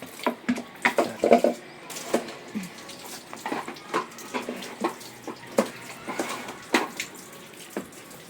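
Tap water runs and splashes in short bursts during washing at home, with irregular knocks and clatters from handling.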